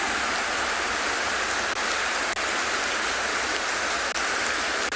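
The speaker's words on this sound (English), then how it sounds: "Rain in this sort of magnitude can be quite destructive." Heavy rain pours down during an African sunset safari, a dense steady hiss drumming on the vehicle, loud and unbroken with faint occasional knocks.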